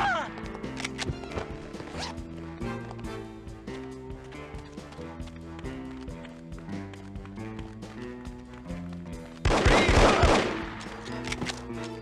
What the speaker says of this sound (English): I thought I heard gunshots.